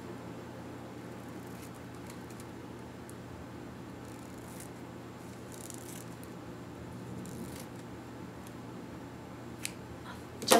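A toilet paper roll being cut with scissors, giving faint, repeated snips and crinkles of cardboard over a low steady background hum, with no voices.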